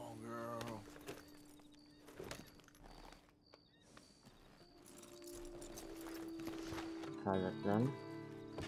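Horse hooves clip-clopping in Red Dead Redemption 2, the player's mare walking at moderate loudness with irregular steps, while someone talks over it and game sounds and music chime in.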